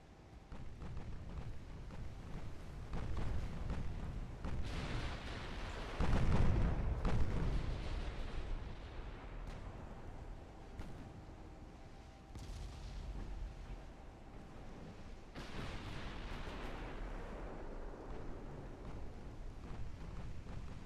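Heavy 14-inch battleship guns firing during a naval battle in Ultimate Admiral: Dreadnoughts, deep booming blasts with long rumbling tails over a steady low roar, one especially heavy salvo near the start, no talking.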